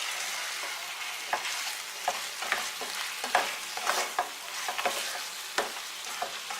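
Onions being stirred into green chili in a frying pan, a steady sizzle broken by a dozen or so sharp scraping strokes of the spoon at irregular intervals, close and clear with no talking.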